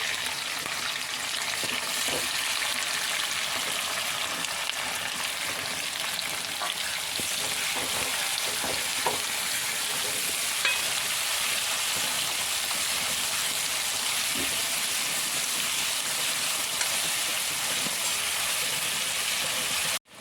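Onions sizzle steadily in a hot pan for a long stretch, with occasional soft scrapes and taps as they are stirred, a dense continuous frying hiss and no voices.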